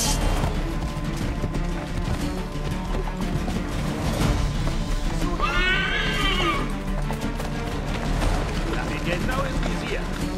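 In Assassin's Creed III, a horse that has just been shot lets out a sharp, high whinny midway through, amid clip-clopping hooves, clanking mechanisms and the clatter of a fight.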